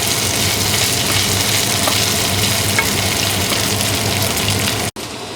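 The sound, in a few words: eggplant steak cooking in a pan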